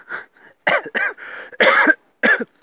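A lone camper coughs several times in quick, harsh bursts close to the microphone, outdoors at a solo woodland bivouac, with short quiet gaps between the fits.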